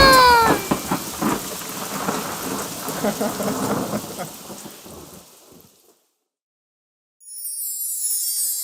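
Steady rain falls with low rumbles of thunder, fading into silence before a short high-pitched, meow-like cry.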